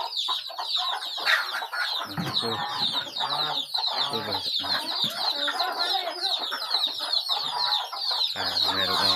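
Chickens cluck and chatter continuously in a backyard poultry and duck pen, with a dense high-pitched flock sound over brief low bursts; a person says a word or two among them.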